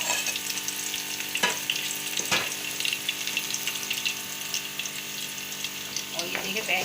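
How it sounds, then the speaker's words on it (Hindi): Onions with green chillies browning in hot oil, a steady close frying hiss and crackle throughout, with a few sharper taps of stirring; no one speaks. "ये प्याज इसके अंदर ब्राउन हो रही है"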